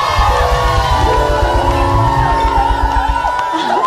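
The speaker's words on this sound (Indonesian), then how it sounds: "Kasih tepuk tangan yang meriah karena kita akan kedatangan boy band." A studio audience at a television comedy show cheers, whoops and shouts to welcome a viral boy band. The loud, continuous crowd noise sits over a thumping rhythmic beat.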